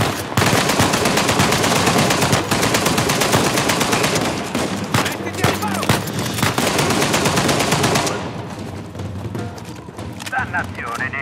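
Dense machine gun fire from the Uncharted 4 video game rattles in rapid continuous bursts for about eight seconds, then drops to scattered shots, with voices talking over the firefight.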